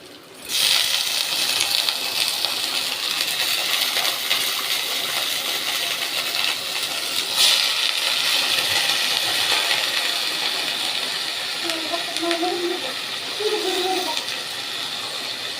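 Ponnanganni greens go into a pan of sautéed onions, setting off a steady, close hiss and sizzle that carries on evenly from start to finish.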